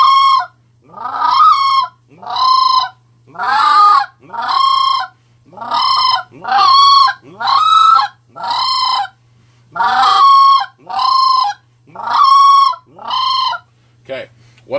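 A Triad Killer goose call is blown to imitate a sandhill crane, giving about a dozen loud, rolling, trilled honks in evenly spaced bursts, each about a second long, close and alone against a faint low hum.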